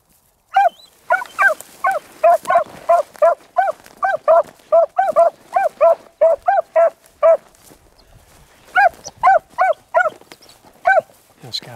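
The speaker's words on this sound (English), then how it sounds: "quit barking" Beagles barking outdoors on a hunt, a long run of sharp, evenly repeated yelps close by, pausing briefly and then resuming, with a voice speaking between and over the barks.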